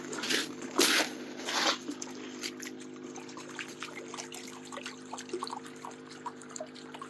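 Water splashing and trickling in a gold pan as fine gold concentrate from a highbanker is panned down, with a few louder sloshes early on and then soft, steady drips and dribbles close by.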